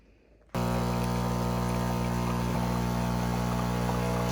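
A Breville espresso machine's pump kicks in abruptly and runs loud and steady, drawing plain water through the system in a continuous droning hum with a faint trickle beneath.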